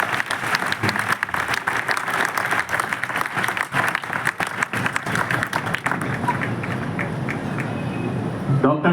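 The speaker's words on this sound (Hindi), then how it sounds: "जोरदार तालियों से" A festival crowd at a religious gathering claps loudly and steadily, with thick, continuous applause filling the whole stretch without letting up.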